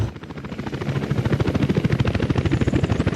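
A helicopter in the city-building game Workers & Resources: Soviet Republic chops steadily with a rapid, even rotor thump that grows slightly louder and holds close and prominent throughout.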